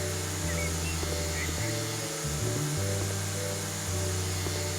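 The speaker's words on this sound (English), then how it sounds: "I'm just going to weed whacker it into oblivion" A weed whacker cuts grass in the video game House Flipper, its motor whining steadily and shifting pitch as it revs up and down, with a voice talking at times.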